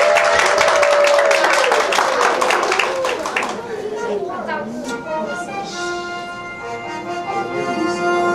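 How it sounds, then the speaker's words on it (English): An audience applauds an elementary school choir at a holiday carol performance, dense clapping for a few seconds that then tapers off while voices talk over the fading applause. "Let's give them a round of applause."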